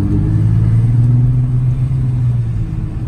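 A Golf R32 accelerates, with a steady low engine rumble and drone heard from inside the car, sustained and fairly loud; no talking.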